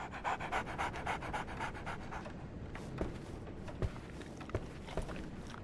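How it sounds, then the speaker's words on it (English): A dog in the Sherlock Holmes video game pants in quick, rhythmic breaths close by, with a few soft taps and shuffles near the end and no talk. "So, Barnes has a dog now."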